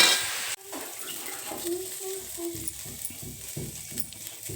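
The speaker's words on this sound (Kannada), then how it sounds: "ಆ ರೀತಿಯಲ್ಲಿ ನಾವು ಇದನ್ನು ಈರುಳ್ಳಿಯನ್ನು ಹುರ್ಕೋಬೇಕು" Onions sizzle in hot oil and are stirred toward a reddish brown, with steady frying crackle and scraping stirs after a brief pause, close and moderately loud with no talk.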